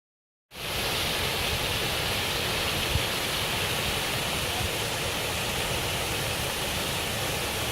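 Steady rushing water of a nearby waterfall near Papineau Lake, roaring without pause after a brief silence, a dense, even wash of sound.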